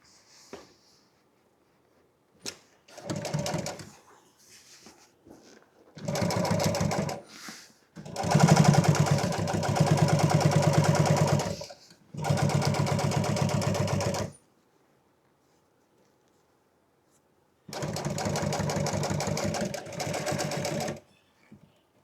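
A sewing machine stitches truck seat upholstery in loud rapid bursts of varying length separated by quiet pauses, the needle's fast mechanical chatter dominating each run, with soft handling noises in between.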